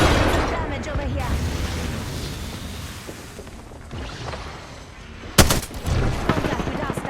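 Rapid automatic gunfire and booming shots fill a battle in the video game Apex Legends, steady and loud, easing off midway before a sharp burst and renewed firing near the end, with voices heard over the action.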